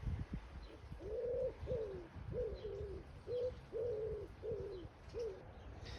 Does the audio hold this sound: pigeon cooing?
yes